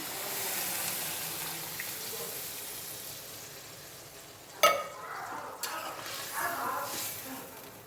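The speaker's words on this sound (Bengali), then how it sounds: "এখন এই যে পানি দিলাম" Water poured into a pan of spices fried down for a home-style rohu fish curry with cauliflower: a steady sizzling hiss, then a sharper splash and bubbling burst midway followed by softer clinks and simmering, close and moderately loud.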